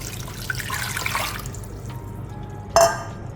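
Three measured cups of water are poured into a pot of chicken soup with cloves, a soft steady trickle and splash that fades, then one brief sharper splash near the end.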